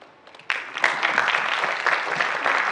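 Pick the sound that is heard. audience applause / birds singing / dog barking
audience applause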